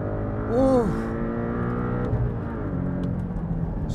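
A Porsche 718 Cayman T engine pulls hard on the Rudskogen racetrack, its tone rising and shifting through a quick gear change, heard from inside the car with a brief voice over it.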